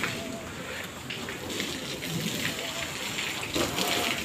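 Water is splashed over a vehicle during a rough hand wash, giving a steady, close hiss and spatter that runs throughout with small surges.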